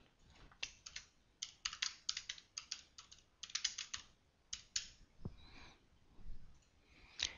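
Quiet, close-up typing on a computer keyboard, with bursts of rapid key clicks broken by short pauses and a few isolated taps, and no voices.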